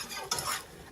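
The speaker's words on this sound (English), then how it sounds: "But whisk continually." A flour mixture is whisked continually in a pan over medium heat, giving a brief close scraping swish with a light metallic clink against a soft background sizzle.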